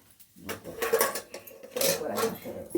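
Pots, steel dishes and cutlery clatter and clink at the sink as utensils are scrubbed and washed, irregular close knocks and scrapes with running noise in between.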